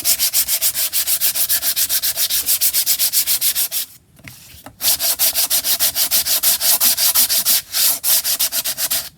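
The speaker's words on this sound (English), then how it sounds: "Let's sand it down" Cardboard for a junk journal cover being sanded by hand to remove loose bits: loud, close, fast rhythmic rasping strokes with a brief pause midway, no talking.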